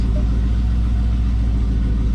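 A Dodge Charger's engine runs at a steady idle, a close, continuous low rumble that holds even throughout with no revving or speech.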